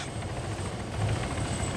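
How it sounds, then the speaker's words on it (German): A helicopter in the military shooter Arma 3 drones steadily with a continuous rotor and engine roar. The sound is moderately close and is heard alone, with no talk. "der Heli soll wegfliegen"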